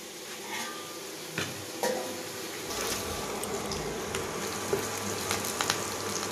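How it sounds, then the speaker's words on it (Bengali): Onions fry in a pan with a steady, loud sizzle throughout, and a few scraping, clinking stirs against the cookware stand out. "একদিকে পেঁয়াজ ভাজছি"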